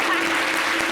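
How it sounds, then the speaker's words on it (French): Studio audience applause on a holiday TV show, a dense burst of clapping heard briefly and steadily close. "est-ce qu'on peut applaudir Gris qui parle?"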